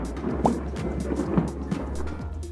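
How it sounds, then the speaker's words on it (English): Thunder rumbles low and heavy through a stormy spell, with rain pattering over it and a few sharper cracks breaking through the steady roll. "It is thunderstorm."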